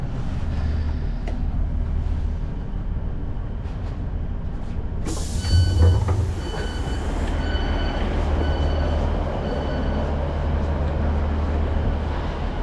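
A train bound for East Kilbride, Scotland, rumbles steadily along the rails, with a brief clanking jolt and a burst of high hiss partway through, continuous and close.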